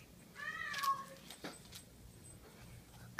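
A house cat gives a single short meow, fairly faint, over a quiet indoor background with a few soft knocks and rustles.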